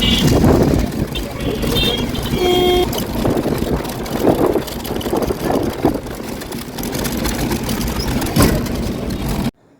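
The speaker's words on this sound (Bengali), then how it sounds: "ঘাটের কাছে এসে নৌকাতে উঠে গেছি" A boat engine drones steadily throughout on a river crossing from Mayapur toward Nabadwip, with background voices, ending abruptly.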